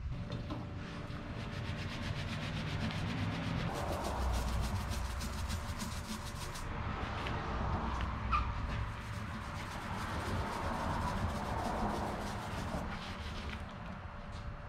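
A brush scrubs a whitewall tire with lacquer thinner in a continuous close rubbing scratch, pulsing with the back-and-forth strokes, with no talking.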